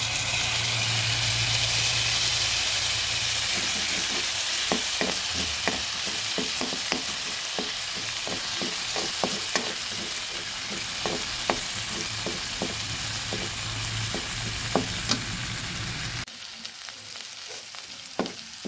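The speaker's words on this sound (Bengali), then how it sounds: "মশলাটা যখন কিছুটা ভাজা হয়ে আসবে" Spice paste of cumin, coriander and turmeric powder with ginger sizzles in a pan with a splash of water, steady frying hiss broken by repeated clicks of a spoon stirring, the sizzle dropping away near the end.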